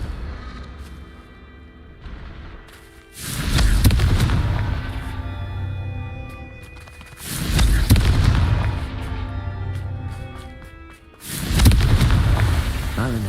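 Confringo fire-spell blasts in the Hogwarts Legacy video game: three loud booming explosions about four seconds apart, each trailing off in a long roar, with game music under them.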